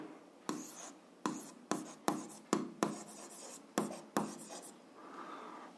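Writing out a maths solution for a 7th-grade algebra exercise: about nine close, distinct scratchy strokes come in quick bursts with short pauses between them. No one speaks.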